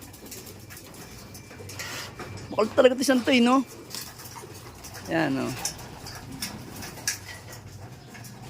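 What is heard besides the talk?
birds calling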